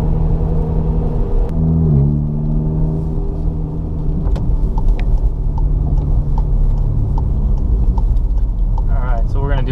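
An MK7 car fitted with a center exit exhaust pulls hard onto a highway, its exhaust droning and rising steadily in pitch as it accelerates in a loud, continuous run heard from inside the cabin.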